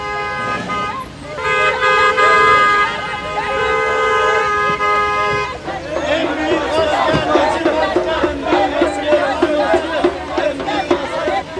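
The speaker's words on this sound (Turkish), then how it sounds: "Nereden çıktı şimdi sabah sabah bu tezahürat?" Crowd cheering and chanting outdoors in the morning, with long blaring horn toots at first, then a lively din of overlapping shouting voices.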